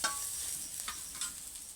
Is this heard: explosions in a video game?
no